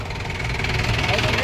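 A tractor engine idling on a narrow village road in India, a close steady mid-pitched rumble with a knocking throb, heard alongside speech.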